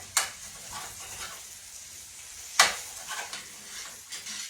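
Onions dropped into hot butter and bacon grease, giving sharp sizzling bursts with a couple of strong hiss peaks amid softer stirring and crackle, close by and with no talking.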